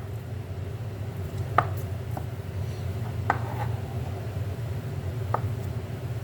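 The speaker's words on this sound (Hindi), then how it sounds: "इसके भी हम क्यूब काट लेंगे।" Knife cutting a hot, peeled boiled potato into cubes, a few soft, separate chops on a board over a steady low background hum, close and fairly quiet, no voice.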